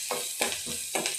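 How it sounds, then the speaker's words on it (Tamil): Onion, green chili and curry leaves sautéing in a pan, soft sizzling with three short stirring scrapes, close and fairly quiet. "வெங்காயம், பச்சை மிளகா, கறிவேப்பிலை நல்லா வதங்கி வரணும்"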